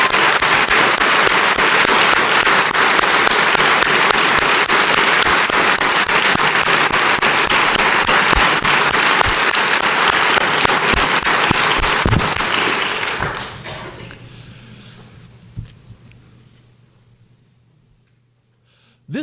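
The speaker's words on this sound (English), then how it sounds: "Let's give them another round of applause." Loud, sustained applause from a large crowd at the 2019 Nevada State of the State Address, dense clapping that holds steady for about twelve seconds, then fades away into near silence.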